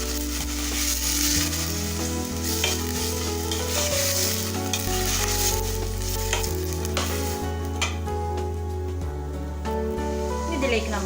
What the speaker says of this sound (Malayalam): ഇനി ഇതിലേക്ക് നമുക്ക് പപ്പായ ചേർത്ത് കൊടുക്കാം. നമുക്കിതിനെ ഒന്ന് മിക്സ് ചെയ്തെടുക്കാം.